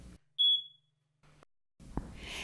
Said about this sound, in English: A smoke alarm is the only thing in your home that can alert you and your family to a fire